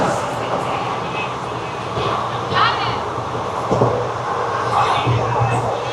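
A local train rumbles past in a steady, broad roar that swells slightly and holds throughout, with faint squeals over the din and no clear talk.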